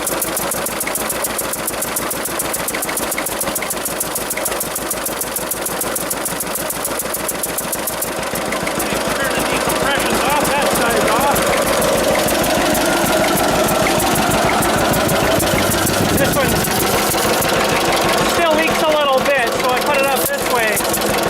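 A 1946 John Deere AR tractor engine runs steadily after starting, a loud continuous chugging with knocking pulses that grows slightly stronger partway through, close by with no one talking over it.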